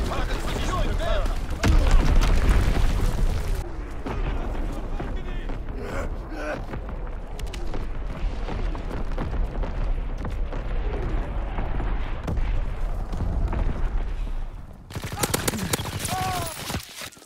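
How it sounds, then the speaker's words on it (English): Call of Duty WW2 Domination match on the Gibraltar map, with dense artillery and bomb explosions booming over continuous gunfire, loud and sustained throughout, and game announcer voices calling out in places. "Enemy bomb incoming, get to cover! Firing battery one!"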